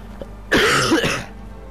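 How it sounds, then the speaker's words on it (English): One short, harsh cough with some throat clearing, close and fairly loud, alone with no talking around it. "I'm still going to be having the coughs."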